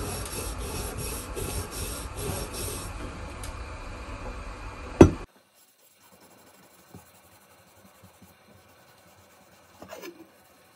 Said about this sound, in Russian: И вот так все отмывается. Опять же вот этой тоненькой губочкой.